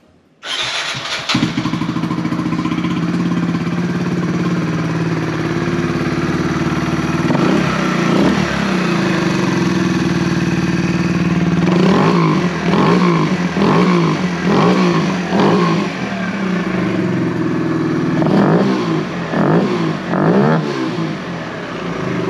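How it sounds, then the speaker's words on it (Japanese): A 2021 Kawasaki Z125 PRO with light custom parts starts up close by, settles into a steady idle, then gets several sharp blips of the throttle in quick bursts before dropping back to idle. "そして、今その次にですね、エンジンかけたいなと思います。"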